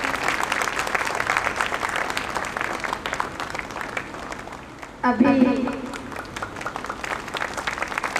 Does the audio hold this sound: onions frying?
no